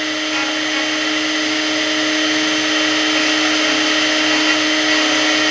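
Tubular key cutting machine running continuously, a loud, steady high-pitched motor whine with grinding texture, alone without talk.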